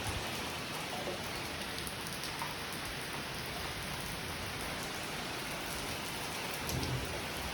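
Steady rain pours down, a dense, even hiss of drops filling the whole stretch without a break, fairly close and constant.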